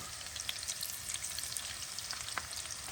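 Liver patties coated in flour and egg sizzle steadily in a hot pan, a constant crackling hiss with occasional louder pops, close and without any talk.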